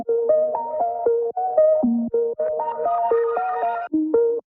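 A synth keys loop runs through a Crystallizer plugin that switches on and off, producing clean stepped chord stabs with short gaps and a shimmering, brighter texture in some bars, played alone without voices.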